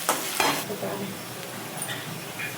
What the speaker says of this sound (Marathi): कांदा आता परतत आलेला आहे